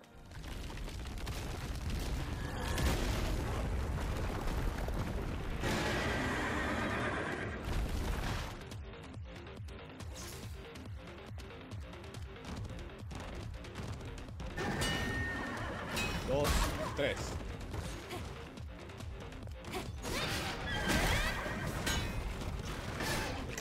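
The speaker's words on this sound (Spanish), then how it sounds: "caballo, loco?" A horse neighs and whinnies in the video game Stellar Blade, with hoof clip-clops, booms and mechanical game sounds spread across a long stretch; a player's voice is not prominent.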